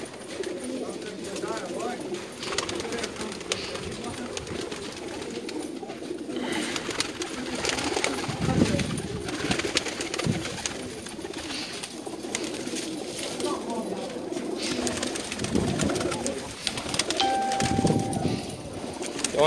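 Pigeons coo repeatedly, soft and low, while people talk nearby over a busy background.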